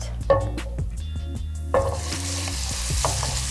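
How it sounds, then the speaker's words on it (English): Meat sears in a hot steaming pan, a loud close continuous sizzle with bursts of crackle and a few stirring scrapes, with no talk. "now I'm going to sear. A sear is only gonna take one, maybe two minutes max"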